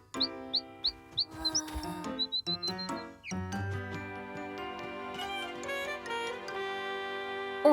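In a Caillou cartoon, a small bird gives a quick run of bright, high chirps, then tinkling cartoon music takes over and plays on alone.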